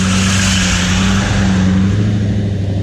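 A 500 hp Mil-Spec Hummer H1 off-road vehicle holds a loud, steady low engine drone with a slight rise in revs, close and continuous through the short stretch.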